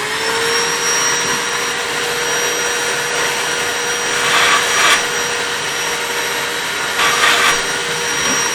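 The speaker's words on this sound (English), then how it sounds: "Grab a vacuum, clean all that out" A vacuum cleaner runs steadily, close and loud, sucking debris out of a sticky guitar body, its constant whine broken by two brief surges of airy hiss as the nozzle moves around inside.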